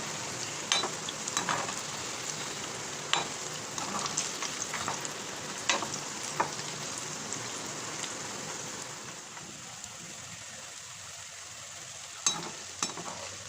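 Nimki pastries deep-frying in oil give a continuous crackling sizzle, with occasional clinks of the stirring spoon; steady and moderately faint throughout.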